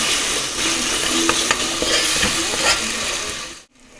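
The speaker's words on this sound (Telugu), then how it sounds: "ఇది ఇప్పుడు పచ్చి వాసన పోయేంత వరకు ఇది కూడా మనం ఫ్రై చేద్దాం" Three tablespoons of ginger paste fry in a pan for a fish curry, a loud continuous sizzle with occasional stirring scrapes, ending abruptly before a brief pause.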